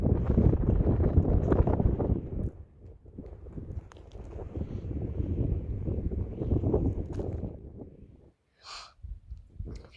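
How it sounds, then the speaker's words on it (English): Strong gusting wind on top of Monument Mountain buffets the microphone in heavy, uneven roaring bursts that ease off briefly before rising again. "hopefully you can hear me over the wind"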